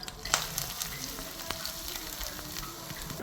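Grated coconut and curry leaves fry in oil with a soft, steady sizzle, punctuated by light stirring taps and scrapes, fairly quiet and without speech.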